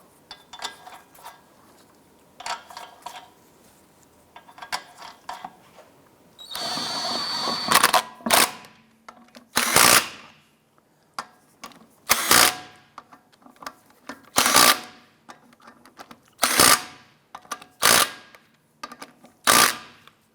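A power tool snugs down lug nuts on a 2001-2007 Ford Escape front wheel, with soft ratcheting clicks early on, a dense whirring stretch, then a series of loud, regularly spaced short impact bursts.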